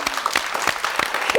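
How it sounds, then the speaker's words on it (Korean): A brief burst of quick, distinct claps from a studio audience on a television talk show, loud and close, with roughly a dozen sharp hand strikes in rapid rhythm. "박수 한번"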